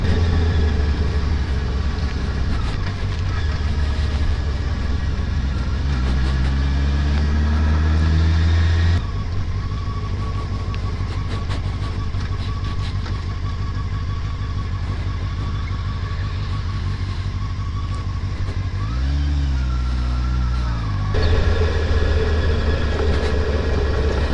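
A carbureted Honda CBF600S motorcycle rides along a highway, its engine droning steadily with wind rush and a couple of rising and falling pitch sweeps as the revs change.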